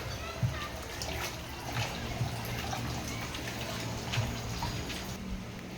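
Clothes are rinsed by hand in a tub of water, with steady sloshing and splashing close by and a voice at times.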